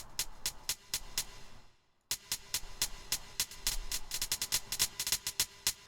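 Short, sharp Korg Triton synth notes play in a fast pattern, each one ringing out into a washy reverb tail. A brief gap interrupts the phrase before it resumes.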